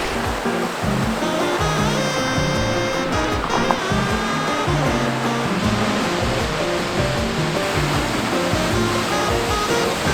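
An Icelandic waterfall rushes close by, a loud, steady broadband roar of falling water with no pauses and no voices.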